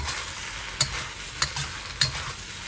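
Fish cake and pork belly sizzle steadily in a hot wok while a utensil scrapes through them three times at an even pace, close and fairly loud, without any voices.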